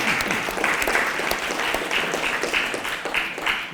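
An audience at a historical society program bursts into steady, moderate applause, many hands clapping together in a dense patter that holds for a few seconds.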